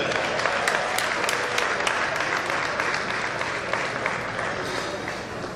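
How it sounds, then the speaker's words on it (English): An audience at an alumni gathering claps steadily for a retired school bursar. The applause is dense, with a few sharper claps standing out close by, and it holds level throughout. "A round of applause for Miss Elliott, ladies and gentlemen."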